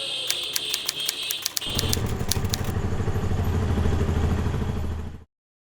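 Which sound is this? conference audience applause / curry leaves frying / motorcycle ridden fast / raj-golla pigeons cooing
motorcycle ridden fast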